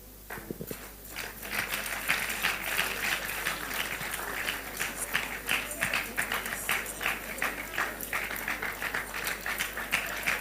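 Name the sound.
audience clapping and applauding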